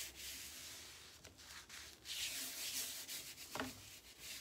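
A hand smoothing textured floral paper across a side table top, a steady dry rubbing and sanding-like brushing with a few short louder swipes, close and alone without talk.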